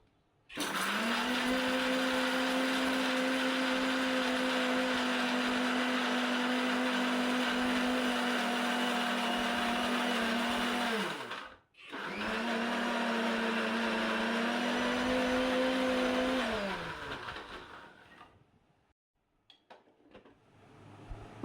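An electric mixer grinder whirs loudly while grinding chutney with roasted peanuts, salt, sugar and a little water. It runs for about eleven seconds, stops briefly, then runs again and winds down to silence.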